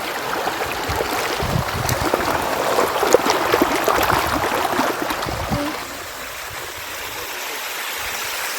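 Water gushes from a leaking Water Authority pipe beside a road, a loud, steady, close rushing roar that eases to a softer, even flow for the last few seconds, with no talk.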